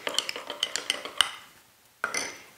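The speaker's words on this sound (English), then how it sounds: "So we're going to stir that up pretty good." A utensil clinks rapidly against a bowl while stirring a honey and yeast mixture, a quick run of light metallic taps followed by a short pause and a final scrape.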